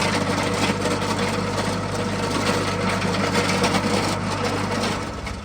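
Tractor engine droning steadily while dragging a Gannon earthcavator over a gravel driveway, a loud continuous low rumble with gritty scraping on top, easing off near the end.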